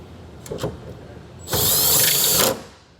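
A power drill drives screws into a truck bed ladder rack mounting plate in a track rail, with a few light clicks and then one loud, steady whirring run lasting about a second close by.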